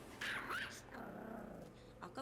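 A dog growls low and steady in a tense scene from the Korean drama Sweet Home, mixed under voices and dramatic background sound.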